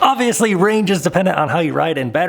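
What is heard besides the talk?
None of the usual background noises is heard.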